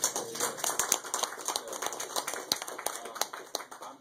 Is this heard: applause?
yes